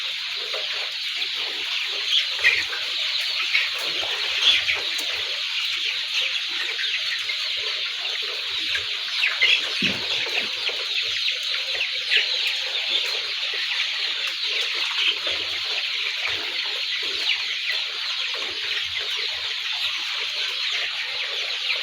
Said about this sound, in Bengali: মুরগি পাতা শেষ করে ফেলাইছে